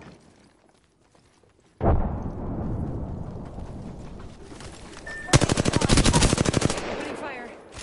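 Gunfire in the battle royale game Apex Legends starts abruptly after near silence, then a loud sustained stretch of action noise swells into a rapid, evenly spaced automatic burst near the end.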